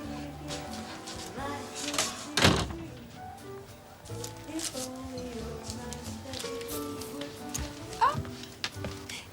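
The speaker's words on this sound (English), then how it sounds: "Aren't you going to shut the door?" A door is pushed shut inside a house, a single solid thunk partway through amid low chatter and background music, with people talking quietly around it.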